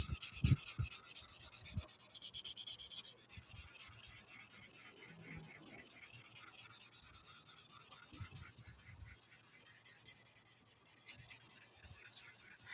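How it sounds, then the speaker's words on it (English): Steady rubbing and scraping of wet sandpaper across a car headlight lens being restored, close and continuous with soft rhythmic strokes and no talking. "you don't really feel the grit when you're sanding something with wet sandpaper"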